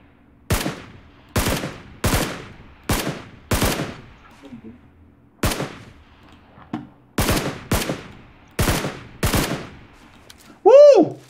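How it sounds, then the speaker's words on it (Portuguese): Single DMR rifle shots in PUBG Lite ring out as about ten sharp, loud cracks spaced roughly a second apart, two short bursts with a pause between them, each trailing a brief echo, followed by a short tonal chime at the end. "Eu tô com a DMR, vou atirar nele."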